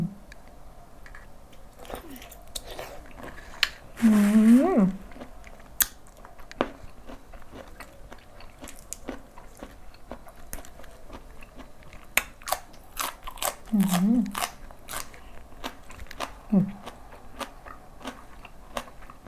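Crunchy bites and chewing of a spicy fresh shrimp and lotus stem salad, a few distinct crisp crunches spaced apart over a quiet background with scattered small clicks, close to the microphone.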